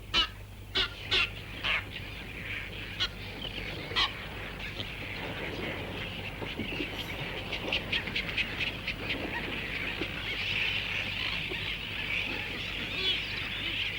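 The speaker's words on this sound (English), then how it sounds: "These are gannets." Gannets call at a nesting colony on Cato coral cay, harsh honking cries repeating in bursts, some close and some farther off, over a constant background of the crowded colony.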